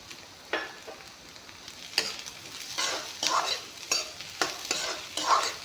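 Fried egg pieces frying in a pan with potatoes, a near sizzle broken by several sharp stirring scrapes at a steady, unhurried pace.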